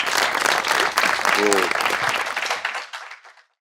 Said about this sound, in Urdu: بے شک، تالیاں۔